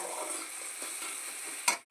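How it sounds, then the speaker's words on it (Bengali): Grated ginger and green chillies fry in a wok with a steady close sizzle, and a brief louder stir comes near the end. "এরপর আমি কড়াইয়ের মধ্যে দিয়ে দিয়েছি একটুখানি গ্রেট করে রাখা আদা আর কাঁচা লঙ্কা। এটা একটু নুন দিয়ে ভালোভাবে ভেজে নেব"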